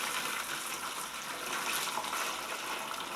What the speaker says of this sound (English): you start with a cup, and you just start funneling in